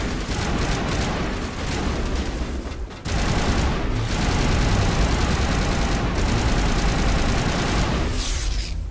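Dense firefight in the Mass Effect game, with rapid bursts of gunfire layered thickly and loudly, a sharp cut near the third second, then continued heavy shooting with short gaps.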